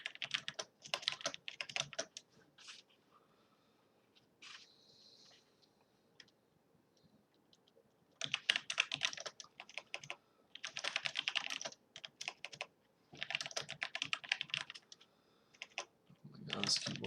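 Fast typing on a computer keyboard comes in clustered bursts of rapid clicks separated by quiet gaps, close and crisp, with a short stretch of faint talk partway through.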